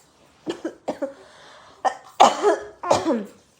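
Someone coughs several times in short, harsh bursts, some in quick pairs, close to the microphone with brief pauses between.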